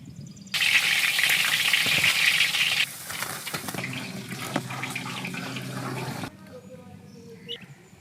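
Potatoes frying in a pan produce a loud, dense sizzle that holds steady for several seconds, then drops to a quieter, crackling fry with occasional utensil clinks.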